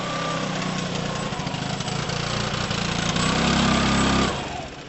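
A Piaggio Typhoon 125cc scooter engine idles steadily with a low buzzing putter, holding close and even before cutting off abruptly near the end.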